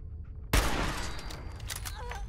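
Gunfire in the video game Fallout 4 erupts suddenly as a loud close blast, followed by a dense burst of rapid shots and echoing reverberation that fades gradually.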